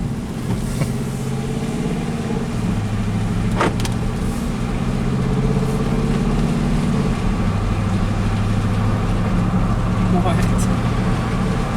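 A Dodge Durango R/T with its muffler removed and the exhaust chopped idles loud and close. The rumble is deep and steady, its pitch shifts slightly, and a person can be heard talking over it.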